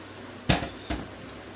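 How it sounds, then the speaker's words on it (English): Meatball soup for albondigas gets stirred in its sauce in a pot: two quick clanks of a utensil against the pot, the first louder, a half-second apart over a faint background hush. "Give that a mix."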